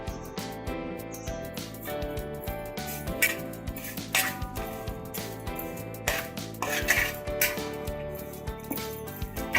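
Steady clinking and rattling as ground chilli and spices for dosa masala powder are mixed together, with busy metallic scraping and tapping continuing throughout at close range.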